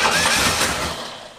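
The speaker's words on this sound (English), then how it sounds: "Crank it. Cranking." An old muscle car engine, long stored, cranks and catches into a rough, loud running roar that slowly fades a little toward the end.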